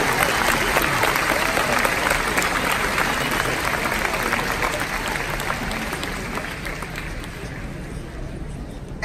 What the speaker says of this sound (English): Ladies and gentlemen, let's give a round of applause for the runners.